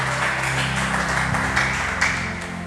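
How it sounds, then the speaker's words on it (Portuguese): Church congregation applauding during a worship service, a dense steady wash of many hands clapping together, continuous and fairly loud throughout. "E só você que crê, dê um aplauso ao nosso Deus."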